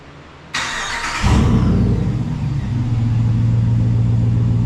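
A 2019 Ram 1500 pickup with its muffler deleted cranks and fires up, close and loud. The starter whirs briefly before the engine catches into a deep, throaty rumble that settles into a steady, loud idle.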